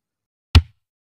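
A single kick drum hit from an electronic or real drum kit, one short punchy thump with a quick decay, heard alone against silence.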